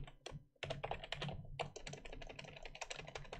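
Rapid typing on a computer keyboard while writing code, with dense clattering keystrokes in quick bursts, close and steady, a short pause near the start, and no voices.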